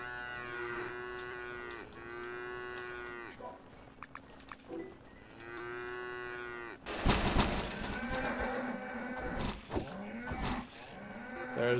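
Cows in the video game Craftopia moo repeatedly, several drawn-out lowing calls in the first half. Then comes a sudden loud burst of game noise, with clanks and more bellows mixed in.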